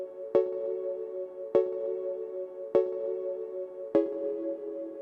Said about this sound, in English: And then we've got the last synth in this track, which sounds like this.